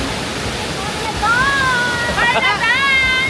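Shifen Waterfall in Taiwan pours in a steady broadband roar, with a high whistling tone rising over the rushing water near the end.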